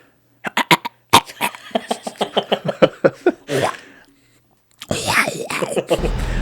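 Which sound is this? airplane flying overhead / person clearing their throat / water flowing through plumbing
person clearing their throat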